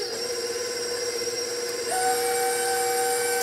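An electric mixer on low speed beats eggs and sugar for Portuguese sweet bread, a steady whining motor hum that jumps up in pitch and gets slightly louder partway through, with no talking.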